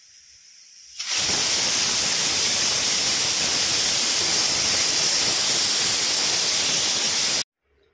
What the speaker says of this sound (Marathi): आता मी याला झाकण लावून घेणार आहे आणि कुकरचे 5-6 शिट्ट्या काढून घेणार आहे